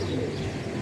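Pigeons coo in a soft, steady low murmur, faint and close, with no talk.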